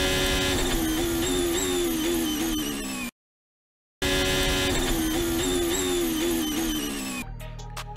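From onboard a Ferrari Formula 1 car with Leclerc under braking, the high-pitched engine wail falls sharply with each downshift, cuts out briefly, then returns loud and descending again before fading to a lower idle.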